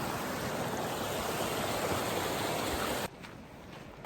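Rushing water from the Borosa river's waterfall and stream roars as a steady broadband wash, then drops abruptly to a softer flow near the end.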